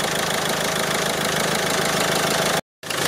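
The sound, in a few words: Citroën Xsara Picasso engine idling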